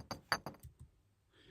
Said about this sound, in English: we have to try and play with this glass bottle.